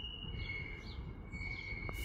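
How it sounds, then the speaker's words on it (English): A really squeaky Class 158 diesel unit, 158951, arriving on a Penzance service in Cornwall, its wheels giving a sustained high-pitched squeal over a low rumble of running gear, steady and fairly close throughout. "approaching in now is a really squeaky 158951 service for Penzance"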